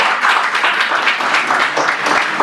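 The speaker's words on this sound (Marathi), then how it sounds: "त्यांच्यासाठी आपण जोरदार टाळ्या वाजवूया." An audience claps for a keyboardist at an evening music concert in Varanasi, a dense, loud burst of crowd applause that lasts the whole moment, with no voices over it.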